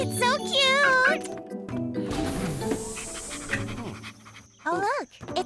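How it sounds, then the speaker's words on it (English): Cartoon puppy panting in quick breathy bursts alongside a bright jingle, with a child-like voice talking over it at close range. "Oh, look, it's a puppy."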